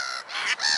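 A big flock of birds calls at once, with crows cawing loudly and continuously in a dense, close chorus.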